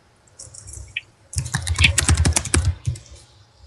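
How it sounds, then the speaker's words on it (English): Rapid, aggressive typing on a computer keyboard, close and loud, with dense bursts of key clacks after a short quiet start. "So, who's the keyboard slayer? That's David."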